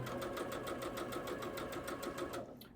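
Sewing machine piecing a Road to Oklahoma quilt block, a steady run of rapid needle strokes at close range that stops near the end, with no talk.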